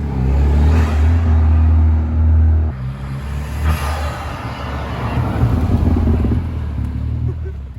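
A BMW F30 328i fitted with an MST intake rumbles and drones steadily from inside the cabin on the road, engine tone rising and falling slightly with light throttle.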